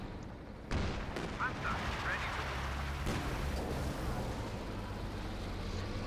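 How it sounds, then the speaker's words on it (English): Game battle sounds from Company of Heroes 2 as a Puma armored car fires on a Pershing tank: booming cannon shots and rumbling gunfire under a commentator's continuous talk. "Puma firing off a bit against the Pershing."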